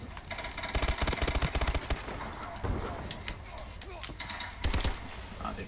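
Rapid automatic gunfire from a Call of Duty video game rattles in dense, loud bursts, pausing briefly before another volley, with a voice talking now and then over the shooting.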